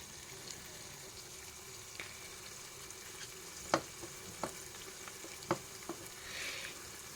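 Spices for khichuri, cardamom and cloves among them, sizzle in a pan with a soft steady crackle, broken by several sharp clinks and scrapes of a spoon stirring against the pan.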